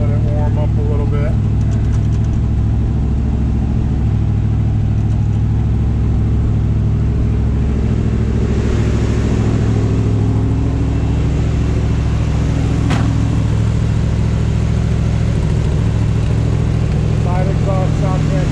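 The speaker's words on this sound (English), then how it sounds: "Sounds fantastic. Engine sounds good." A 1966 Chevrolet Corvette Convertible engine idles while warming up, a steady deep rumble close by that holds even throughout, with some background noise and people talking over it.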